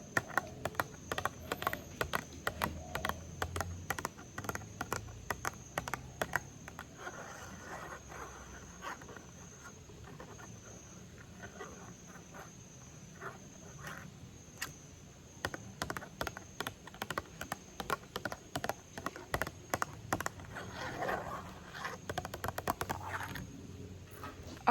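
Light, rapid tapping clicks in irregular clusters, soft and close, running over a faint steady background hiss.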